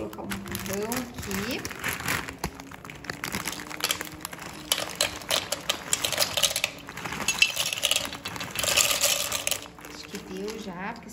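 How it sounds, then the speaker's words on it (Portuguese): Dry boca de leão pasta is poured into a pressure cooker pot, giving a dense clattering rattle with crinkling packaging, close and continuous, and a voice is briefly heard. "Então, eu vou colocar o macarrão aqui."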